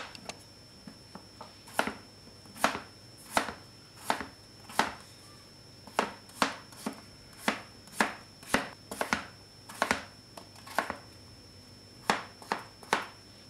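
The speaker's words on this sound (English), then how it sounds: "we're gonna take two medium-sized potatoes and cut them to cubes, just like that" Knife cutting two medium-sized potatoes into cubes for vegan samosas, with a steady run of crisp, evenly spaced chops on a cutting board, close and clear with no talking.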